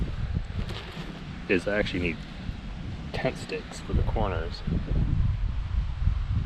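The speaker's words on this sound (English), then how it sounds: "It's so windy." Strong wind at a Lake Superior beach campsite buffets the microphone with a constant low roar and gusty rumble, heard beneath a nearby person talking.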